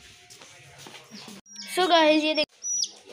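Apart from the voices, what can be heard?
small colored chicks chirping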